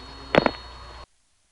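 Two quick clicking telephone exchange switch sounds after an invalid number is dialed, over a steady hum and traffic noise, followed by abrupt silence.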